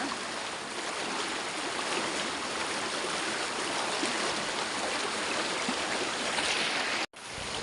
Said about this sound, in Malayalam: ഈ വെള്ളം ഇങ്ങനെ വരുന്നത് മുകളിൽ നിന്നേ കനാലിൽ നിന്ന് വരുന്നത്